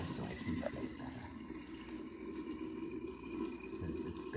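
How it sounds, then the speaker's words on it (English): Water poured off soaked wheat for kibbe runs in a steady, soft trickle with faint splashing, continuous and close, with no talk over it. "I'm going to just pour off the top of the water so I can see it better."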